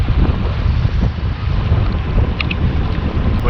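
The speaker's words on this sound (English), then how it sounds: "It's windy." Wind roaring steadily across a sailboat's microphone as the boat comes into a sheltered marina at Lossiemouth, Scotland, a loud continuous low buffeting with faint water and rigging sounds, no talking.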